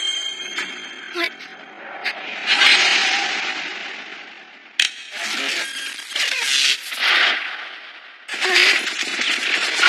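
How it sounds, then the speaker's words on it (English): Machine-gun fire from an anime action scene in English dub, several loud bursts of rapid shots separated by short gaps, with sharp impacts mixed in. "Now, open fire."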